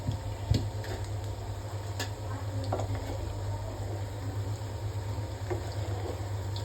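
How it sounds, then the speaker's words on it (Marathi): Undhiyu, a traditional Gujarati mixed-vegetable dish, cooks in a pan with a steady soft sizzle and faint bubbling, punctuated by a few light clicks and taps, over a constant low hum. "तर मस्त भाजी पण शिजते आता हळूहळू."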